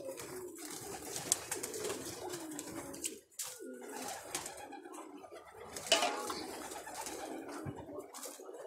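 Pigeons coo softly inside a nest box during nest cleaning, with low repeated cooing and light bird calls throughout, close by and moderately quiet, with rustling and handling noises mixed in.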